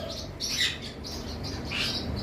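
Yellow lovebirds in a cage chirp in short bright bursts, a couple of clusters of high tweets over a steady low hum, fairly close.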